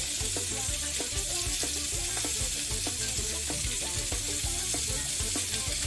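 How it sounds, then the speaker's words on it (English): Butter sizzles and spits steadily in a hot pan while blackened salmon is basted, a dense continuous frying hiss with small clinks and scrapes of a spoon throughout, close and loud with no talking. "we're going to add in some more butter because we're going to baste these as well"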